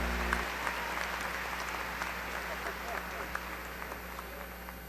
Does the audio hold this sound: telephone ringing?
no